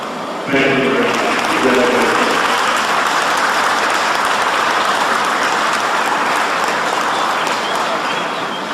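Steady crowd applause at a B-29 bomber ceremony in Dallas, continuous and fairly loud for most of the stretch, with some voices mixed in near the start.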